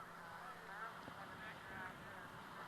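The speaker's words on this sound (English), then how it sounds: "even the geese out in right center field are hard to see from the press box" Geese honk faintly from a distant baseball outfield during a high school game at dusk, a few soft calls rising over a steady ambient murmur.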